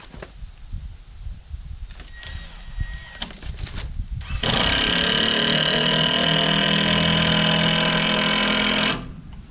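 A power saw cutting wooden boards for a woodshed modification: a few faint knocks first, then a loud sustained whine of the blade biting through wood for about four seconds before it stops abruptly.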